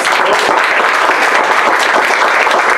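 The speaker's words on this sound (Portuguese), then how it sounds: "Aplauda bem forte." A church congregation applauds loudly and continuously, a dense, close wash of clapping with no voices.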